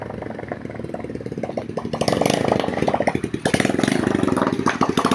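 An old Motorstar motorcycle engine recovered from a junkshop, just started and running at low idle, with a steady rapid firing pulse that grows louder and rougher partway through, close and loud with no talk.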